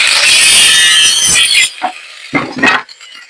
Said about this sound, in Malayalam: ഇനി ഇതിനെ നമുക്ക് രണ്ട് സ്റ്റമ്പായിട്ട് അറുത്തെടുക്കാൻ വേറെ പീസ് ഇല്ലാത്തതുകൊണ്ട് നമുക്ക് അറുത്ത് കയറി രണ്ട് സ്റ്റമ്പാക്കി എടുക്കാം